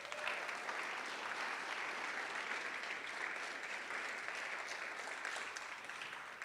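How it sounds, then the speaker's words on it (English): A school signing-day crowd claps for athletes being honored, a dense and sustained wash of applause held at an even level throughout, heard from within the audience. "please clap it up for these guys for that."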